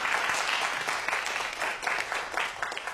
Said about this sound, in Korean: 다시 한번 큰 박수 보내주세요.